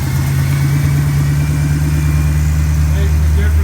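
A 1969 Pontiac Firebird V8 with a new four-barrel carburetor idles steadily and loud up close, a low even rumble with no talking over it.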